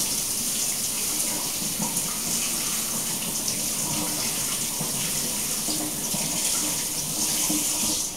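Red skin potatoes washed under a running kitchen tap, a steady close rush of water splashing continuously with no talk.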